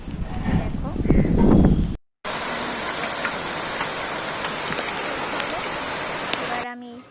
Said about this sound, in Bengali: বলতে বলতেই বৃষ্টি নেমে গেছে